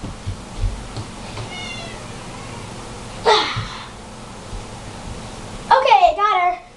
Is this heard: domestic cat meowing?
yes